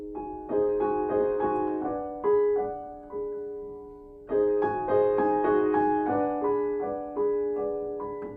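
Soft, sustained piano chords ring out one after another, gentle and hushed, with a pause in the middle before the chords resume.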